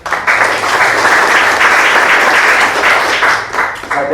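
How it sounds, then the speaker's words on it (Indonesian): Church congregation applauding, a dense burst of steady clapping that holds for several seconds at full strength before easing slightly near the end. "Coba beri tepuk tangan ke Yesus dulu."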